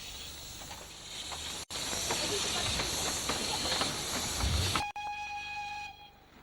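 A steam locomotive runs on the Cleethorpes Coast Light Railway, a loud continuous hiss and rumble of steam and rolling wheels, ending with a sustained whistle tone.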